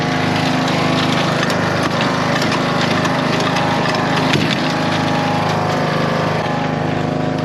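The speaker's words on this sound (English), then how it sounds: "So I need to release the deck. It needs to go down in height." A grass-cutting mower runs with a steady, loud engine drone throughout as its mowing deck is lowered, with a faint mechanical shift partway through and no talking.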